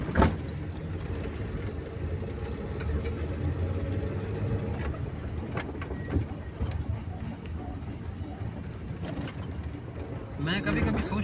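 Road traffic with cars rolls past in Rawalpindi–Islamabad, a continuous engine rumble with passing vehicles and faint bird calls, heard beneath people talking.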